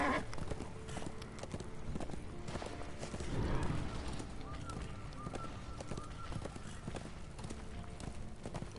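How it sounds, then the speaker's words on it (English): Horse hooves clip-clop at a steady trotting pace in the Darksiders 2 video game, rhythmic and moderately loud over a dense game soundscape with occasional chimes. "This is no place for a horse."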